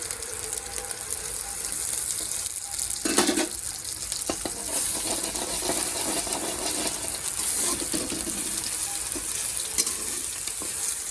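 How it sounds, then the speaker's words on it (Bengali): Chowmein with egg frying in ghee in a pan sizzles steadily and loudly throughout, with occasional stirring scrapes and clinks and no talking. "ঘরে তেল নেই কি করব একটু ঘি দিয়ে চাউমিনটা করে নিচ্ছি"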